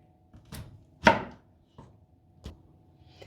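Four or five separate knife chops cut through a pineapple on a cutting board, each sharp and close, one louder than the rest, with short pauses between.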